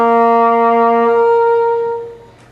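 An English horn plays a single sustained note, warm and reedy with a strong rich harmonic series, loud and close, held steadily for about two seconds before fading out.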